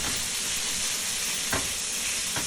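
Beef for Chinese-style pepper steak browns in a hot pan with soy sauce, giving a loud, steady sizzle and hiss, with a couple of brief stirring scrapes near the end.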